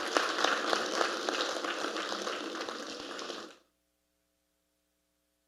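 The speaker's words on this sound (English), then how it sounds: "Applause for the Governor General, please." Applause for the Governor General at a formal panel discussion marking an anniversary, a sustained crowd clapping for about three and a half seconds before cutting to silence, with a brief burst at the very end.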